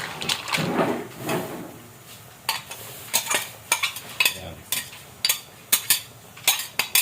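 Mixed vegetables stirred into butter garlic seafood in a pan, with a run of sharp, irregular utensil scrapes and clinks against the pan, fairly close, over a faint soft sizzle.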